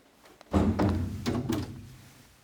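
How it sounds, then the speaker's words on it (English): Heavy doors in an abandoned UK cinema bang shut, a couple of loud close thuds and knocks in quick succession that ring briefly in the empty building before fading. "All the doors are so loud here."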